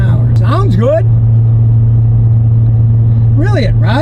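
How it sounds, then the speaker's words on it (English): Car engine held at 40 mph in second gear, a steady low hum running throughout, with a voice speaking over the first second and again near the end. "you can hear the engine spinning good"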